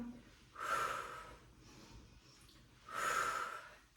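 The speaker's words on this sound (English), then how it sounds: "Try breathing in through your nose, out through your mouth." Two loud, close breaths, each a broad airy rush lasting about a second, separated by a quieter pause, paced like breathing during a Pilates mat workout.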